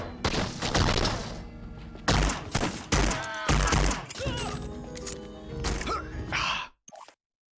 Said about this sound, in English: And Kane was shooting at me